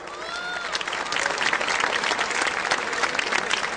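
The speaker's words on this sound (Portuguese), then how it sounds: "Uma salva de palmas para o professor Laí." Audience applause breaks out for a speaker at an evangelical gathering, dense clapping swelling after the first half second and holding steady and loud, with a faint voice briefly audible at the start.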